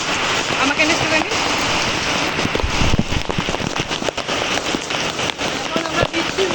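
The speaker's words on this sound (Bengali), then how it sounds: "এই জোরে জোরে বৃষ্টি ওয়েদারে এখন আমরা বৃষ্টির মজা নিচ্ছি।" Heavy rain pouring down outdoors, a loud, dense and continuous wash of drops hitting surfaces, with voices talking over it.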